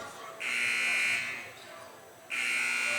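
A harsh electronic buzzer at a basketball game sounds in two long blasts, the first about a second long and the second starting after a pause, with crowd noise beneath.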